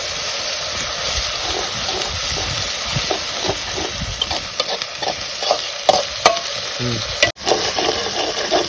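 Grated onion gravy for a desi corn curry fries in a pan while being stirred, making a steady sizzle and hiss broken by irregular scraping strokes of the spoon, close and clear.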